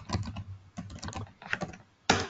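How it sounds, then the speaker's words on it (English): Quick bursts of typing on a computer keyboard, clusters of sharp key clicks separated by short pauses, close and clear. "I hear somebody typing"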